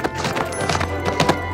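Toy horse hooves clip-clop in quick, irregular knocks, with several louder taps like a jump and landing, close and busy over a faint background hum.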